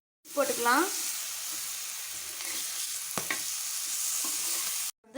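Dried fish frying in oil in a pan, a constant close hiss of sizzling with a brief clatter of stirring midway, cutting off abruptly at the end.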